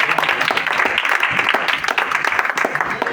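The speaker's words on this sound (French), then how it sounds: "Je crois qu'on peut l'applaudir." A church congregation applauds a new song leader during a Saturday worship service, dense clapping held steady throughout and mixed with some voices.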